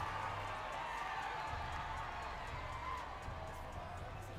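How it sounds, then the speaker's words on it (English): A crowd at an NBA 2K esports finals event cheering and shouting, a broad continuous roar that stays fairly even throughout, moderately distant, with commentary voices over it. "I hear the crowd getting involved."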